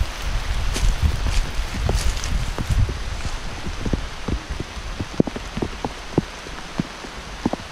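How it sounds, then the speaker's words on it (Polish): Steady rain pattering on a surface during a boat trip to Coron Island in the Philippines, with individual drops tapping clearly close by and no voices. "Tak samo tu pada jak tam."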